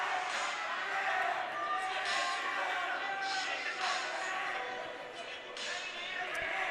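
A home crowd of Kahok faithful applauds the coach at a Kahok high school hockey game, a steady, busy wash of clapping and crowd noise that runs throughout beneath a commentator's voice.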